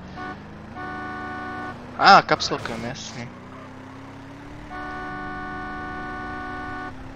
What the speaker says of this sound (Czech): Já se zase zapomněl, čím se troubí.